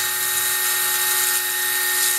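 A new DIY CNC spindle motor, a small spindle motor turning about 8,500 RPM, gives a loud, steady high-pitched whine with no change in pitch, alone and close up.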